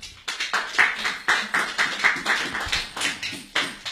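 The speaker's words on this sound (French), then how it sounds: "acclamons pour la parole de Dieu" A church congregation claps in rhythm during a French-language service, sharp and steady hand claps repeating about twice per second throughout, fairly close and loud.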